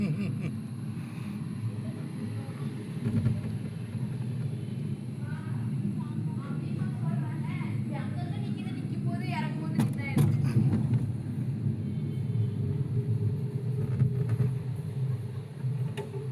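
A cable car on its rope at Malampuzha Dam gives a continuous low rumble with rattling and creaks, while people talk nearby and wind buffets the microphone throughout.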